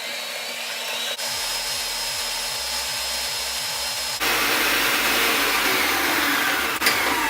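Stand mixer with a paddle creaming cookie dough at medium speed: a steady motor whir with a rhythmic thumping churn, which steps up louder partway through and runs continuously alone.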